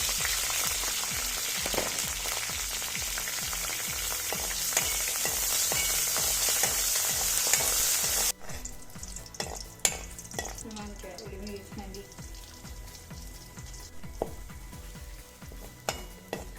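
Coconut oil sizzles loudly in a village kitchen pan for about half the time, then drops to quieter crackling with scattered utensil clinks and stirring scrapes.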